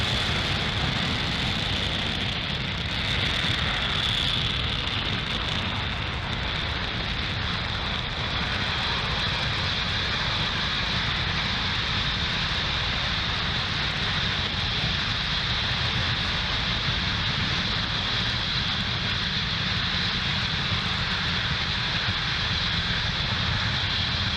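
A SpaceX Falcon 9 lifts off from Pad 40 at Cape Canaveral with its engines roaring. The broad, continuous rumble stays steady and distant and fills the whole stretch.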